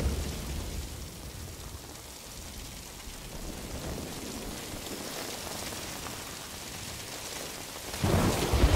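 Steady heavy rain with rolling thunder in the stealth video game Metal Gear Solid V: Ground Zeroes, a continuous dense wash with a louder rumble near the end and no speech.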